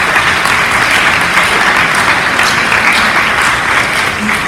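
Loud, dense applause fills the room at a high school annual debate event, a full audience clapping steadily and evenly throughout with no voices on top.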